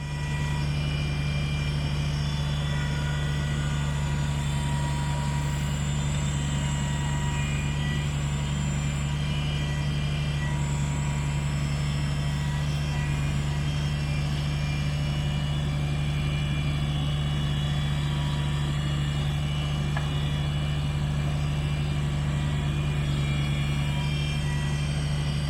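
Tractor with a backhoe attachment running, a steady loud diesel engine drone with a strong low hum, continuous and unchanging for the whole stretch, with no talking.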